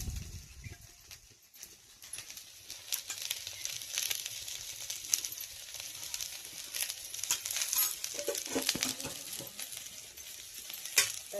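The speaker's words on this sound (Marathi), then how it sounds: "चांगलं आपण हलवून घेतलं." Okra (bhendi) stir-fry frying in a pan, stirred with a spoon: soft sizzling under irregular scraping and clinking strokes, fairly close and moderately loud, with no talk.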